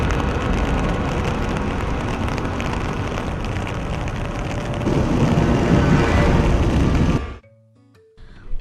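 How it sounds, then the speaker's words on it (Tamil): Heavy rain pours down in Chennai, Tamil Nadu, during a thunderstorm. It makes a dense, steady, loud hiss that carries on without a break and swells slightly midway, then cuts off abruptly to near quiet before a brief return. "சென்னை உட்பட தமிழகத்தின் பல்வேறு பகுதிகளில் இடி மின்னலுடன் கூடிய கனமழை பெய்துள்ளது"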